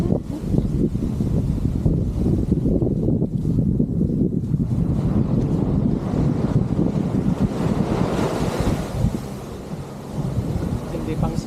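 Strong beach wind at Dinadiawan Beach roars steadily with a low rumble throughout, buffeting the microphone, with no clear speech over it.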